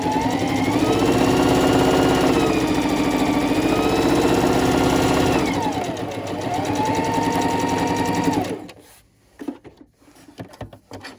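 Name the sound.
sewing machine stitching fabric gift bag edge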